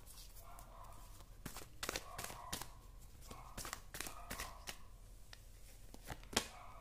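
Tarot cards being shuffled by hand: a quiet run of soft, papery riffles and slaps in irregular bursts, close up, with no talking.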